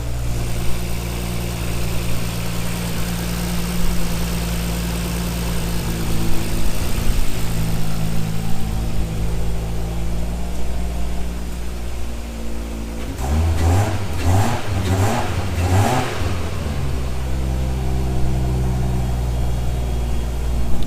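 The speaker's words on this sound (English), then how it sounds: "lot quieter exhaust on this one, just to be all street legal." A car fitted with an RB25 engine and a quieter street-legal exhaust sits at a steady, rumbling idle, then gets several quick blips of revving before settling back to idle.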